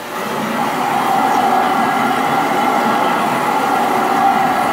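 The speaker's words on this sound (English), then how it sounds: "That is the sound of knocking glass out." A 33-inch f/3 telescope mirror being coarse ground with 46 grit, producing a steady, loud, continuous grinding rumble with a bright gritty edge that holds evenly throughout.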